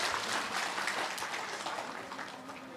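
Applause at a reception honouring a retired PWD chief engineer: steady, dense clapping from a crowd, fairly loud and sustained throughout, with no talk over it.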